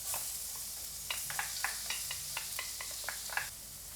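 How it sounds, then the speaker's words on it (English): Minced garlic sizzles in hot oil in a preheated pan for spicy garlic edamame. A quiet, steady hiss runs under a series of small crackles and stirring clicks. "Next we'll add the minced garlic."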